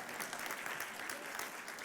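Applause from a church congregation during a sermon, a dense, steady patter of clapping heard at a moderate distance and holding evenly throughout.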